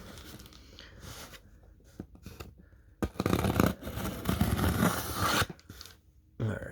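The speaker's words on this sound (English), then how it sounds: "let's unbox it and take a look" A collector's edition horror documentary package being unboxed by hand, with bursts of rustling, tearing and scraping of cardboard and plastic, some louder crinkling passages between quieter handling and short pauses.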